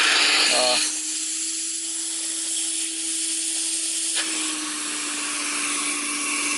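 A Hoover Constellation model 84 vacuum cleaner runs with a loud, steady whine and airy hiss close by, its pitch shifting once partway through as the motor load changes.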